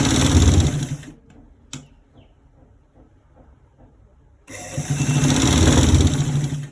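A sewing machine stitches a short sleeve seam at roughly a quarter-inch allowance, running in two loud, close bursts of steady whirring separated by a few seconds of near quiet.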